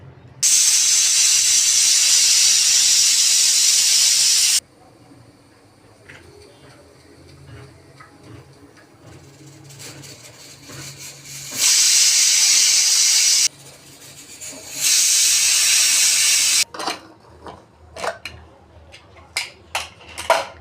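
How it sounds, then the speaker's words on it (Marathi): Loud bursts of hissing steam from a pressure cooker cooking vegetable masala rice, three long whistle blasts separated by quieter gaps, ending with rattling ticks. "आता कुकरच्या 3 शिट्ट्या घेऊ"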